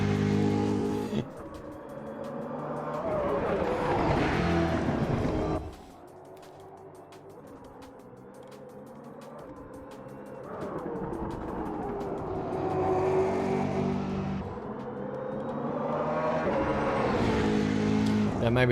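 The engine of a Brabham BT62 in a racing game time trial roars as it accelerates, then drops to a lower idle-like hum before climbing again in long, loud revving sweeps, with a voice talking over it.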